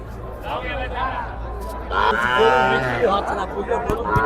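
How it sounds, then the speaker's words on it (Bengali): Young heifer calves lowing at the Nine Mile cattle market in Chuadanga district, Bangladesh, a weekly Saturday livestock fair, with moos rising over a steady crowd murmur and a louder, drawn-out call toward the end. "তো আমরা এখানে যে ছোটো বাছুর দেখতে পাচ্ছি কিছু"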